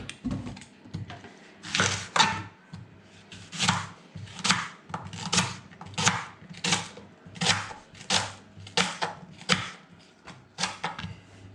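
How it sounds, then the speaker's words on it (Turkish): A knife chops leeks steadily on a wooden cutting board, about a dozen crisp, evenly spaced diagonal strokes with a brief pause early on. The sound is close and there is no talking. "Pırasalarımızı verev kesiyoruz."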